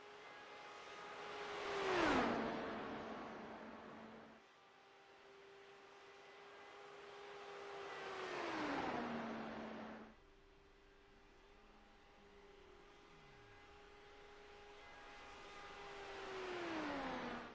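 Sim race cars lapping Indianapolis, several passing one after another with rising and falling engine whine, each swelling as it nears and sliding down in pitch as it passes, heard faintly with no talking.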